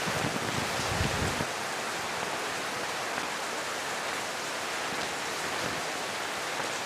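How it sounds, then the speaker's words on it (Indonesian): Steady rain pours down outside a school corridor, making a dense, even hiss that fills the space. A slightly heavier patter comes in at the start, and no one speaks. "Suasana hujan ya."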